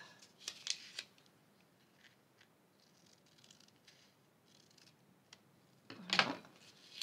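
Scissors cutting paper for a hand-sewn notebook binding: a few quiet snips near the start and one louder, closer cut near the end, with faint rustling in between.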